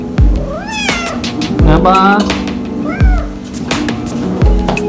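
Hungry cat meowing at feeding time after work, three rising, drawn-out meows spaced about a second apart, close and loud, with a short spoken word and low background noise.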